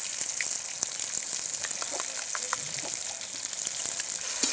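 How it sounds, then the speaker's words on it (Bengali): Spice paste of turmeric, chili, cumin and coriander frying in oil for a mud fish curry, a soft, steady close-up sizzle with faint crackles and occasional stirring, no speech. "মশলাটা এটা দিয়ে দিয়েছি, একটু কষিয়ে নিয়েছি। দেখুন তেল ছেড়ে দিয়েছে।"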